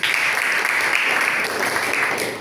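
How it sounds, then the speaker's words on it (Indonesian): A classroom group applauding, a steady wash of many clapping hands, loud and even, fading slightly at the end, with no clear speech. "Tepuk tangan untuk kelompok 2"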